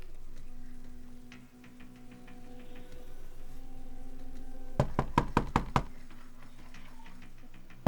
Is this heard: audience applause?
no